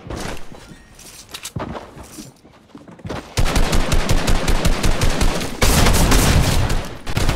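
Rapid bursts of gunfire from the video game Fortnite during a trios competitive match, with dense, loud, repeated shots crackling almost nonstop, quieter for the first few seconds and then sustained heavy firing.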